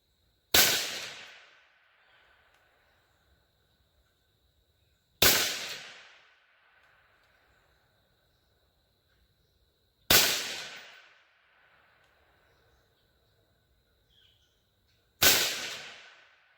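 Four loud, sharp gunshots from a Rossi .22 Magnum semi-auto rifle firing Hornady 30 grain V-MAX rounds, spaced about five seconds apart, each followed by a ringing decay and quiet between shots.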